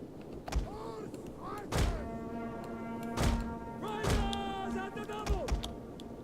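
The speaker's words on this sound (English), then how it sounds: "Looks like our artillery can start firing now." Artillery firing in the Rome 2 Total War video game: several loud, deep booming thumps at irregular intervals, mixed with tonal horn-like game sounds and clatter, with a voice speaking at times.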